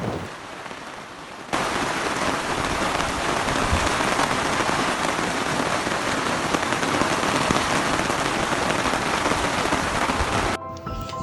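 Steady rain pours onto a wet road in a dense, constant hiss that starts abruptly, holds loud and even for several seconds, then drops away, with no voices.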